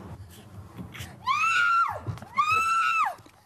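A woman's two long, rising-and-falling screams ring out close and loud in a staged crime reconstruction, with a short gap between them and a quiet murmur of background noise before the first.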